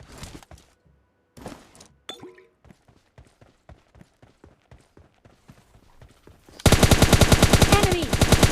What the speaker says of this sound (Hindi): अभी यहाँ पे आगे कुछ गोलियाँ चल रही थी